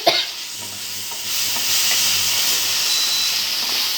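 Ginger garlic paste and red chillies hitting a hot pan, with a sharp initial crackle that settles into a loud, continuous close-up sizzle and hiss that grows slightly stronger and holds steady, with no talking.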